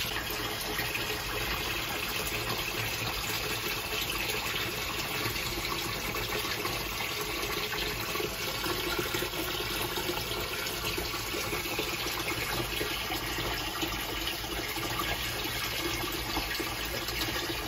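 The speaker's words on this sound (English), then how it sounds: "Fresh water change." Fresh tap water runs steadily to refill a pet monitor lizard's water bowl, a constant close gushing stream with no pauses.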